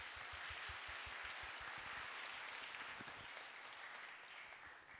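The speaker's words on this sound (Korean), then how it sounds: "기장, 부기장 부원들을 위해 응원의 박수 한번 쳐주세요." A school audience applauds the samul nori (Korean traditional percussion) club at a middle school music concert, a steady, dense wash of clapping that holds for several seconds and fades slightly at the end.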